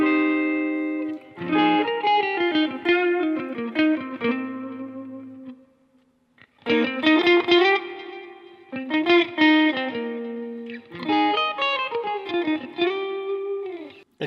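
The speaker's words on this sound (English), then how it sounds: "I just have a simple spring reverb there to give a little bit of depth." Clean electric guitar phrases through a Line 6 Helix with simple spring reverb, notes ringing into a soft wash, broken by a brief silent pause midway.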